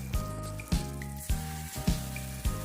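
Dried chilli, a cardamom pod and chopped tomatoes frying in hot oil for a veg paneer dish, a steady close sizzle broken by six evenly spaced soft thuds or stirring knocks, with no talk.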